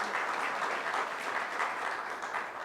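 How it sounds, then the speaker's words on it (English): An audience claps enthusiastically, a dense, sustained burst of applause with no pauses. "Let's give him a nice round of applause."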